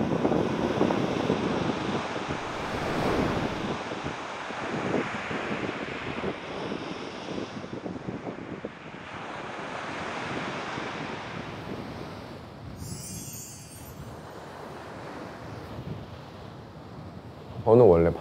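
Sea waves at the seaside roll and wash in a steady, rushing surge with wind buffeting the microphone. The waves come and go over the whole stretch, fairly close, with people talking at times over the surf.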